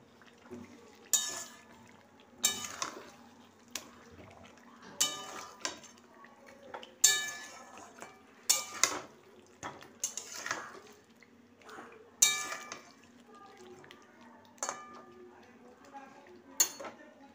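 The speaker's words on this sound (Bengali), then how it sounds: "এটা আমি ক্রমাগত নাড়তে থাকবো, তাহলে দইটা কাটবে না।" A spoon stirs curd in a pot without pause, giving repeated metallic scrapes and clinks against the vessel in an uneven rhythm over a quiet background.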